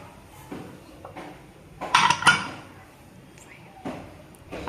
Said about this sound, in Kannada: ಈಗ ಕುಕ್ಕರಿನ ಮುಚ್ಚಳ ಮುಚ್ಚಿ